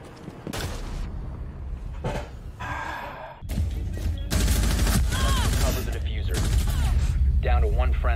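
Video game gunfire in a first-person shooter, rapid bursts of shots building over the second half, loud, with a voice talking over it.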